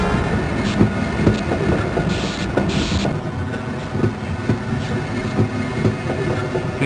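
A tram-style train in the video game Half-Life: Blue Shift rumbles along steadily, with a loud continuous rolling drone, rattling clicks and a few brief hissing bursts, and no voices.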